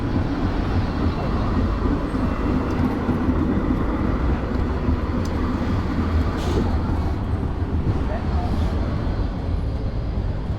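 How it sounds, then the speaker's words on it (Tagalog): A continuous broadband rumble of a passing train, steady and fairly loud throughout, with faint traffic-like noise mixed in. "Ito yung tren."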